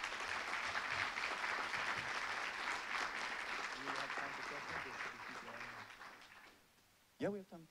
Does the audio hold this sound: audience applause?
yes